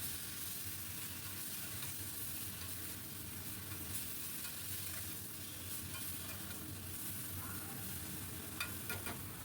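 Ginger, green chilli and tomato paste frying with ground coriander and cumin for a Bele fish curry, heard as a continuous, dense sizzle close by, with occasional soft stirring scrapes and no talking.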